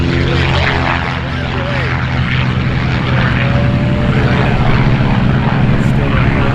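A light propeller airplane takes off at the busy EAA AirVenture Oshkosh fly-in, its engine a loud, close, continuous droning roar that holds steady throughout, with faint voices underneath.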